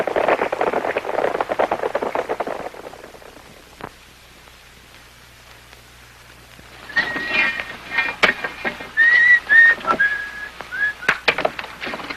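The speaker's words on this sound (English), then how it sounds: "cut out that whistling" After a noisy stretch and a quiet pause, someone whistles a short tune of several bright notes, with scattered knocks and clatter around it.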